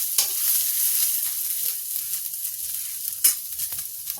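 Peas stirred and dry-roasted in a pan over low gas while cooking aloo baingan chokha, a soft continuous sizzle with occasional louder scrapes and stirring clatters, close by with no voices.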